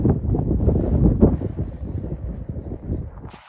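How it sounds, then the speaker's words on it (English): Strong wind roars across a Scottish mountain summit on a Munro, a loud, continuous low buffeting rush that surges in gusts against the microphone. "At this point the wind had picked up"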